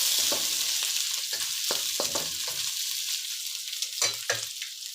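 Shrimp sizzling in a hot pan for fried rice, a steady loud frying hiss with repeated stirring scrapes and clacks of a utensil throughout.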